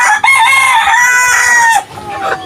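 Roosters crow and hens cluck together, loud and close, among four-month-old chickens on a farm, with a continuous overlapping chorus of harsh calls that dips briefly near the end.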